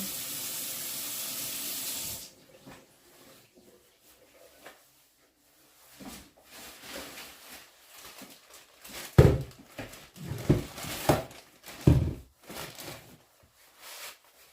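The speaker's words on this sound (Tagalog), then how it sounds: "Kaso kapag madami ang hugasin ko, kagaya nito, mag-iigib pa ako ng tubig, kaya dinadala ko na lang dito." Dishes are washed at a campsite in Norway: water runs steadily at first, then stops, followed by scattered clinks, clatters and splashes of handling dishes, irregular and moderately close.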